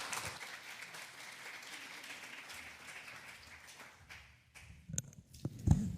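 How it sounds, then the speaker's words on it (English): An audience at an early childhood PBIS presentation applauds the presenters: a steady wash of moderate clapping that thins out and fades after about four seconds, followed by a few faint knocks and shuffling sounds. "So if you wouldn't mind giving them a round of applause,"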